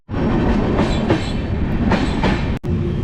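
The Rajdhani Express rolls into Muzaffarpur Junction station, heard from on board as a loud continuous rumble with rhythmic wheel clatter and a brief dropout near the end.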